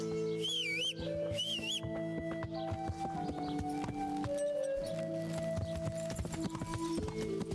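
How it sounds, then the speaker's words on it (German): Horse hooves clip-clop steadily at a walk in the medieval video game Kingdom Come: Deliverance, over a constant bed of game music with whistly tones and a brief whinny-like sound near the start. "Das Pferd ist auch zumindest zu gebrauchen."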